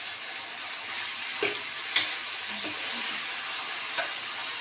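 Vegetables fry in a pan with a soft, steady sizzle, and a few sharp clinks from a stirring utensil break through at intervals.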